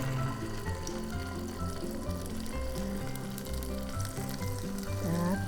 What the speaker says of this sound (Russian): наши кусочки, ломтики осторожно перелаживаем в сковороду